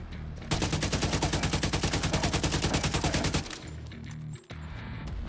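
Rapid automatic gunfire in Tom Clancy's The Division 2, a long sustained burst of evenly spaced shots, loud and close, cutting off abruptly into quieter ambient game noise.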